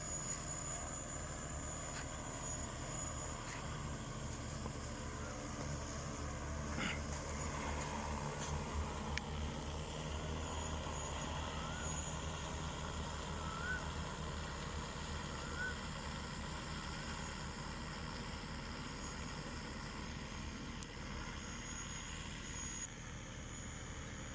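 An agricultural drone sprays hormone over a cassava field in Ratchaburi, Thailand, its propellers giving a steady, continuous whirring hum at moderate distance with no pauses.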